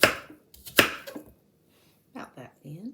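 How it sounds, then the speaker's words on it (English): A knife chops apples for a French apple pie with a few sharp cuts against a board: a quick pair near the start, then scattered lighter cuts and short bursts after a pause, close and fairly loud. "I'm going to go ahead and chop these apples up"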